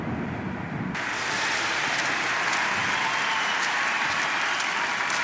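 Crowd applause from the stands at a swimming and diving venue in the London 2012 Olympics video game, a broad steady roar of clapping and cheering that swells in after the first second and holds loud and dense throughout.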